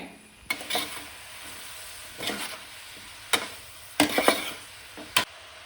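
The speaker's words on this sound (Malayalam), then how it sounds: "സവോള വാടി വരാൻ ഉപ്പിട്ട് കൊടുത്തിട്ട് നന്നായിട്ട് ഇളക്കി കൊടുക്കുക" Onions are stirred with salt in a hot frying pan, giving a low sizzle broken by several sharp scraping and clinking strokes of the spoon at uneven intervals, close by and with no talk.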